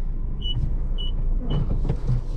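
Car manoeuvring forward in a basement mall parking lot: a low engine rumble runs throughout, with short high beeps repeating at regular intervals and a few light clicks and knocks, no talking.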